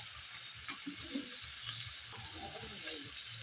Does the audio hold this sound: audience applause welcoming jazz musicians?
no